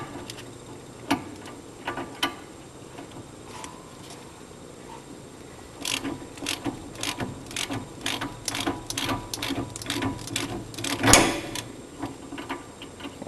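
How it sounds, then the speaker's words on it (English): A socket wrench ratchets on the outer joint of a 2010 Ford F-350, a rapid series of close metallic clicks that grows denser and louder in the second half. "Well, I should be using a deep socket, but I'm not."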